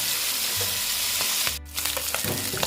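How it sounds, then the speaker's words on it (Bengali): Pieces of rohu fish fry together in a pan, a loud continuous crackling sizzle with a brief dip midway and faint stirring clicks, close up and without talking. "একসঙ্গে মাছগুলো দিয়ে দিলাম এবার মাছগুলো ভাজাও হতে থাক"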